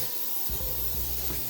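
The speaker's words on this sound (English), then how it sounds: "I got this olive oil can spray." A can of olive oil cooking spray hisses onto a pan for a toaster oven, a close steady spray burst starting partway through and running to the end, with no talk.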